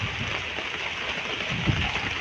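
Rain falls steadily over floodwater in a town street, a continuous rushing patter with a low rumble underneath and one small splash near the end.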